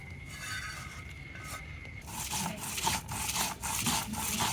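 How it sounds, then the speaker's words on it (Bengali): Onion, green chilli, garlic and salt are ground on a traditional grinding stone, a close, rhythmic scraping and rubbing of stone against stone in repeated strokes that grows coarser and louder halfway through, with no talk. "পেঁয়াজ কাঁচামরিচ ও রসুন দিয়ে সাথে একটু লবণ দিয়ে বেটে ভালোভাবে মিশিয়ে নেব"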